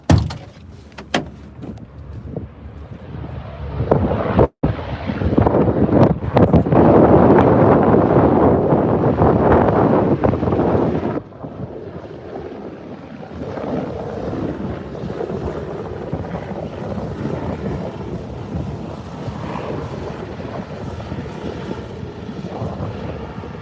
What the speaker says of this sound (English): Do love a good chopper.